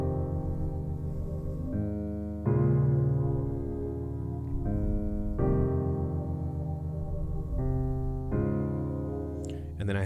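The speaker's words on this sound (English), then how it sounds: "So I have this chord progression, which sounds like this." Sustained synth-pad chord progression in music production software, block chords changing every one to two seconds, smooth and even, moderately loud with no talking.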